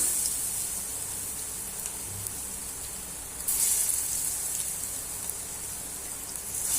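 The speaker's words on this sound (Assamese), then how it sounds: "এইখিনি গৰম তেলত এটা এটাকৈ দি যাম" Continuous bright sizzling of potato chops frying in hot oil, swelling louder midway as more pieces go in, with no voices.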